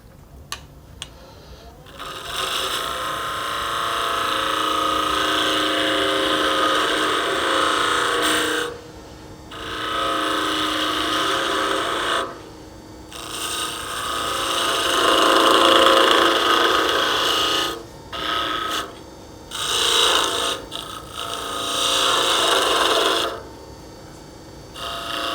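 A spindle gouge cuts into wood spinning on a lathe while a small Christmas tree is turned. It makes a steady, close scraping rasp that breaks off briefly several times, then resumes.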